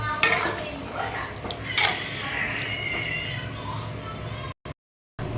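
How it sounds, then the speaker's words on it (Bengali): A spoon scrapes and clinks in a cooking pot as taro greens with hilsa fish head are stirred; a few close metallic knocks and scrapes over a low kitchen background, with no talking. "আর একবার নেড়ে আমি জিনিসটাকে নামিয়ে নেব"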